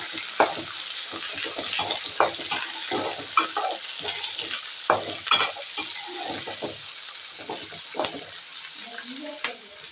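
Chopped onions and curry leaves crackling in hot oil in a pan, loud steady sizzle broken by frequent spatula scrapes and taps, no voices.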